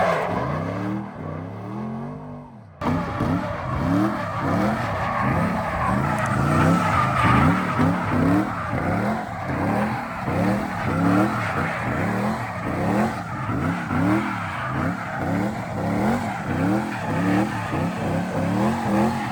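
A drift car doing donuts and sweeping left-right transitions, its tires squealing continuously under a loud, revving engine. The skidding sound stays close and sustained from start to finish.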